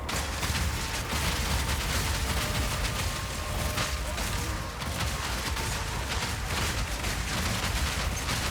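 Non-stop weapon fire from a siege build in the game Path of Exile 2, a dense, unbroken barrage of booming shots and crackling impacts that holds steady and loud throughout, with no pauses or reloads.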